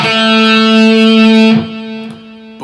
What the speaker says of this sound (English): your major pentatonic scale, is going to sound like this.